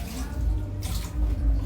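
A little water is poured into a pot of fish head paksiw already dressed with vinegar, a brief close splashing trickle lasting about a second and a half.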